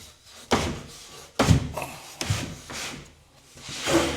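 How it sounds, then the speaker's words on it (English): A wooden top shelf is lifted out of a fireplace unit in a home being decorated, making a few close, dull wooden thunks and knocks with short scraping rubs between them. "This top shelf comes out to allow me to get to that fire."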